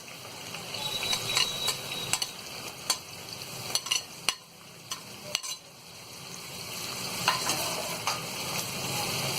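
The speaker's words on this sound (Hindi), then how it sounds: "और प्याज को हम अच्छा गोल्डन ब्राउन होने तक इसे फ्राई करेंगे।" Onions fry in a pan with cloves, cardamom and bay leaf, a constant close sizzle punctuated by frequent sharp scrapes and taps of a spoon stirring against the pan.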